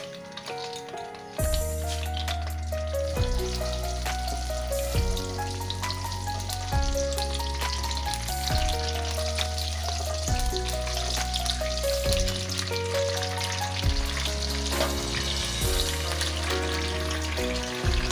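Cumin seeds sizzle steadily in hot oil for palak chicken, a loud continuous frying hiss that runs throughout over a repeating background melody.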